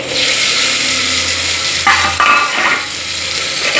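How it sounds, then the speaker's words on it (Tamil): Onions drop into hot sesame oil in a pot and fry with a bright, dense sizzle, with a sharper burst of crackle and a brief clink of a utensil midway, close and continuous with no talking. "இப்போ வெங்காயத்தை போட்டுக்கிறோம்"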